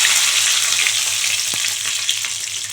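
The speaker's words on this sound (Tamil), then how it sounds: "கடுகு பொரிஞ்சிடுச்சுப்பா" Mustard seeds spluttering in hot oil for a Tamil tomato and chana dal kootu, a dense crackling sizzle with scattered sharp pops, loud and close, continuous throughout.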